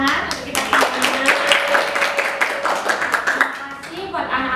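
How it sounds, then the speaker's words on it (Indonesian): Children in a group counselling session clap their hands together in a steady run of sharp, close claps, with a voice speaking over the clapping throughout. "mari kita tepuk tangan untuk kita terima"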